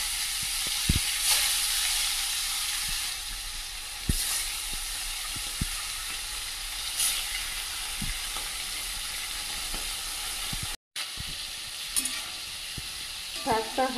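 Leafy greens frying in oil in a wok, a steady broad sizzle running throughout with occasional stirring knocks and scrapes, fairly close, with a brief break near the end.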